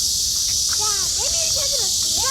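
Large brown cicada droning in a continuous high buzz outdoors, steady and loud throughout, while children's voices chatter over it.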